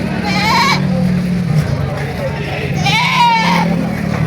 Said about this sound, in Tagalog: 3 kambing, 1 barako at saka 2 babae.